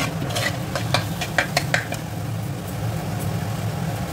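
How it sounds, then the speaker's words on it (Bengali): Sugar being stirred into frying potato and tomato masala, a spoon scraping and clacking against the pan in a quick series of close taps over a low, steady sizzle. "এবার চিনিটা একটু নেড়ে নেব।"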